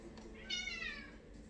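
A kitten gives a single short, faint meow over a low steady background hum in an indoor room.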